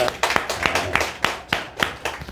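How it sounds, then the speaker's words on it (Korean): Church congregation welcoming a member with a short round of applause: sharp, distinct claps in a loose rhythm from a modest group, close and fairly loud. "우리 박수로 한번 환영하겠습니다"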